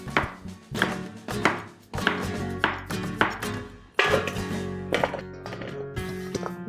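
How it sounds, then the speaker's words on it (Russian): A knife chops cucumbers on a board for a Korean-style cucumber and meat salad, giving close, crisp, rhythmic strokes in quick bursts with short pauses between runs. "Мы нарезали огурцы"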